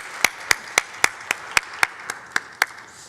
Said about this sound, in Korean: 우리 샬롬과 함께 하나님께 영광의 박수 올려드리겠습니다